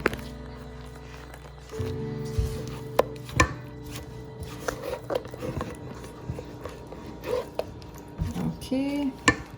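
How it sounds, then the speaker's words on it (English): Toasted coconut is mixed into a mango ice cream mixture in a bowl, with close clattering of a utensil against the bowl and scraping strokes in an irregular rhythm, no talk. "And then we are gonna mix this."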